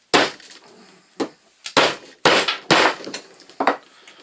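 Hammer blows striking a wooden board on a Lee Load All II shotgun shell reloader, a series of about seven sharp, loud knocks at irregular intervals, close by with no talk.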